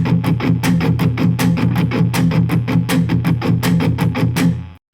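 Electric guitar playing a steady run of sixteenth notes with the first note of each beat accented, a loud, even picked rhythm continuing for several seconds before stopping abruptly.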